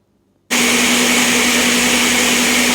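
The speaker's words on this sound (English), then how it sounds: "In the blender, he added the ginger and some water. And he's gonna blend this up until he have a nice fine texture" An electric blender blending ginger with water for ginger beer starts abruptly after a moment of quiet, then runs as a loud, steady whirring roar with a constant motor hum, close and unbroken.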